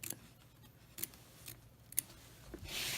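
Scissors trim fabric along an in-the-hoop embroidered mug rug in short, quiet cuts at a steady pace, several distinct snips with soft rustling between them, up close.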